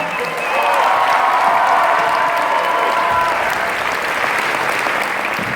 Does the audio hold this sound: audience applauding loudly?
yes